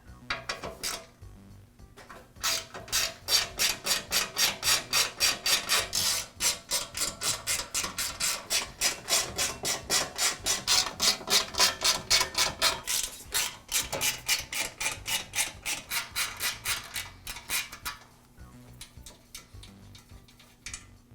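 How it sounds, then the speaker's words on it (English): Top cover coming off a DeWALT air compressor during valve head O-ring repair: a long run of rapid, regular clicking ratchet strokes, close and fairly loud, steady for most of the stretch and then stopping. "I'll begin by removing the top cover from the compressor."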